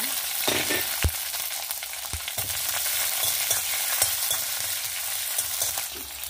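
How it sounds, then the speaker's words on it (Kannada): Green chillies and mustard seeds frying in a tablespoon of coconut oil, a loud continuous crackling sizzle close by, punctuated by sharp spatula scrapes and pops. "ಒಂಚೂರು ಸಾಸಿವೆ ಹುಟ್ಟುವಾಗ ಹಸಿಮೆಣಸು ಹಾಕೊಂಡ."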